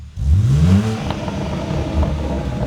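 A BMW M3 Competition with a newly fitted aftermarket exhaust revs hard once, the loud engine note sweeping up then settling into a rumbling idle with light clatter nearby.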